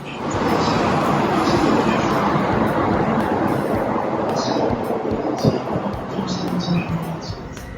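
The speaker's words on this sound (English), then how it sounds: "This is the train you would take to go to Tokyo Disneyland" A loud, continuous rumble of a moving train interior in Tokyo, on the line to Tokyo Disneyland, with voices faintly present underneath.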